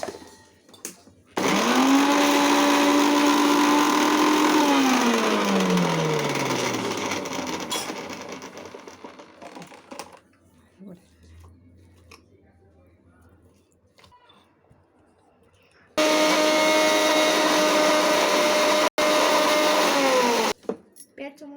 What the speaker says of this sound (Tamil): தண்ணி விடாமல் குறப்பாக இப்படி அரைச்சிக்கிடணும்